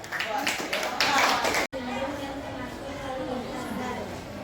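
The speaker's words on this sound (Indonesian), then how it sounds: "Kasih aplaus semuanya." A classroom of students applauds in a burst of clapping that stops abruptly, followed by a speaker's voice over faint room noise.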